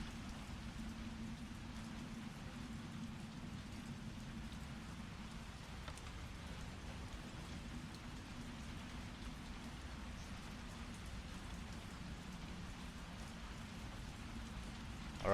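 Rain falls in a steady, even wash of soft hiss and low rumble, faint and continuous throughout with no voices.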